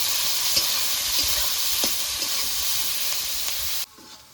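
Onions fry lightly with salt while being stirred, a steady close sizzle broken by soft scraping taps of the spatula, then cut off abruptly near the end.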